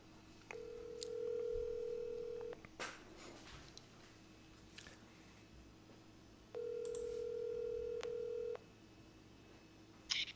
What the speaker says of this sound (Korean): 바로 지금 다시 전화 걸었습니다.